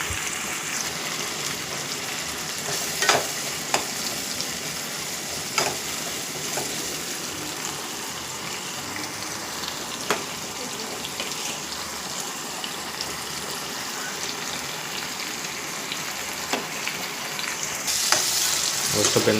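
Curry leaves and mustard seeds frying in hot oil for a beetroot stir-fry, a steady close sizzle with scattered sharp pops and crackles throughout, no talking.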